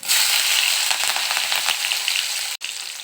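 Chilies hit hot oil in a home kitchen pan while cooking egg podimas, giving a loud, dense crackling sizzle that runs nearly the whole time with a brief break near the end.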